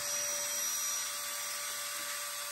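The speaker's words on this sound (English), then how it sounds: "my micro grinder," A micro grinder with a diamond bit shapes the feather area of a wooden chickadee carving, giving a continuous, close, high-pitched whine that holds steady throughout, with no speech.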